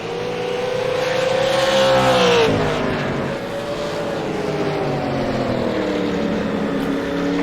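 All American Racing League cars roar around Irwindale's track, engines loud and near at first, then a dopplering drop as one passes, settling into a steadier mid-distance drone of several cars.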